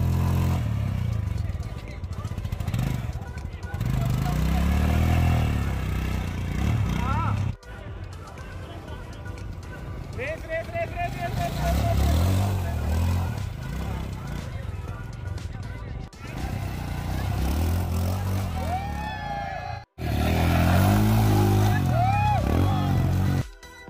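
A Royal Enfield Himalayan motorcycle engine revs hard off-road in mud, surging and dropping in repeated bursts, with people talking and shouting nearby over it.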